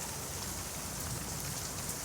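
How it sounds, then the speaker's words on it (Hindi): Steady rain falls on a beach, a dense, even hiss of drops hitting the surface that holds at constant loudness throughout with no voices. "बरसात यहाँ पे फिर से शुरू हो गई"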